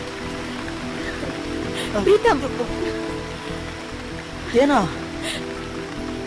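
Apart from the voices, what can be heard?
rain falling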